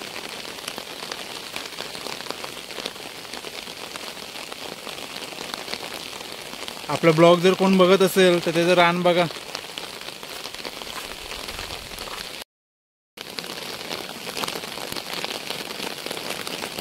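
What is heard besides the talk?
heavy rain in village fields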